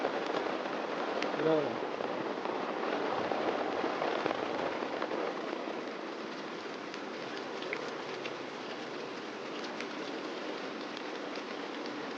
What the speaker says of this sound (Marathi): थोडा पाऊस जरा सुरू झाला